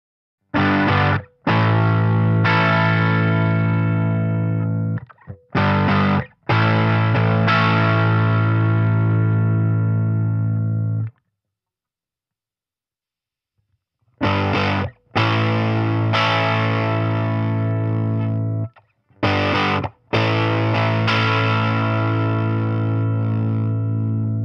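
An electric guitar plays through a Fender Champion 20 amp set to its Bassman voice, heard as long, loud, sustained strummed chords with distortion and a little reverb. The chords come in phrases, with short breaks and one longer pause.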